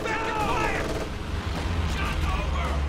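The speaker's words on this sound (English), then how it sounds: "In comes another anti-infantry strafe." Anti-infantry strafing run in Company of Heroes 2, a dense rumble of aircraft gunfire and impacts sustained at high loudness for the whole stretch, with a caster's voice talking over the battle noise.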